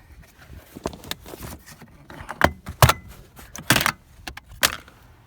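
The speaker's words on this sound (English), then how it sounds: "we're going to have to just simply take our hands and remove this center trim piece" A center trim piece pulled out by hand inside a GMC Acadia, giving a series of plastic clicks, snaps and rattles of varying loudness, close by, with no talking.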